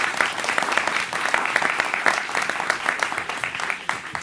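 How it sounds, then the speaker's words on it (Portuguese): Audience at a talk event clapping, a steady, fairly loud spread of many hands applauding without pause, with faint voices mixed underneath. "Uma salva de palmas para a"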